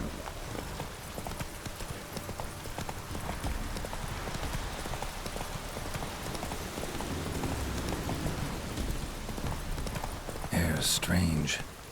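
Roach the horse from the video game The Witcher 3 walks with a steady, continuous clip-clop of hooves over a soft ambient bed, and a brief louder burst near the end.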